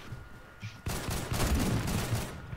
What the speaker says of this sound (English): Pretty sure I'm hearing sniper fire on the top of this building.